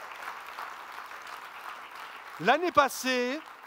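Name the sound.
church audience applauding volunteers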